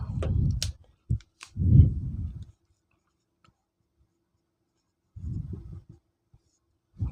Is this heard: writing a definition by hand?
yes